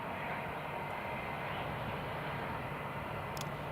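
A KLM airliner taking off at Newcastle International Airport, heard as a steady, broad jet roar that holds evenly throughout, fairly distant and unbroken.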